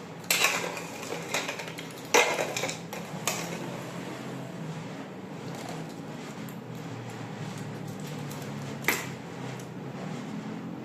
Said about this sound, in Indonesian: sendok untuk memindahkan es ke dalam wadahnya